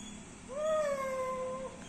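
A single drawn-out cat meow, rising then sliding slowly down and fading, heard close and fairly clear over a quiet low hum in a household setting.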